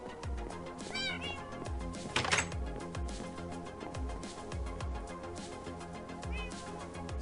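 Cat meows from the video game Minecraft, a few short high calls at about one second and again near six seconds, partly buried under steady, busy game music.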